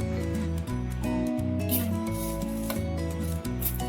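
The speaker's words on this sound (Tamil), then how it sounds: "இப்போ வந்து மிக்சியில் கம்பு போட்டுக்கலாம்." A kitchen mixer grinder whirs while grinding pearl millet, a loud steady motor hum with a shifting pitch and gritty rattle throughout, and no one talking.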